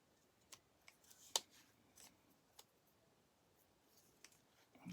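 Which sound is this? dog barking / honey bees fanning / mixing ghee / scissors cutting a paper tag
scissors cutting a paper tag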